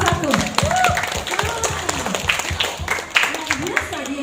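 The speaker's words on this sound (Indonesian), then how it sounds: "Tepuk tangan dulu buat Horong 1." A Sunday school worship gathering at HKBP Letare Palangka Raya applauds a group with lively, scattered clapping, mixed with children's and adults' voices calling out over it.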